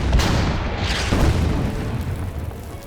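Deep booming gunfire from units in the wargame Order of Battle: Kriegsmarine, a loud low rumble with a couple of heavy blasts that roll off into a fading tail.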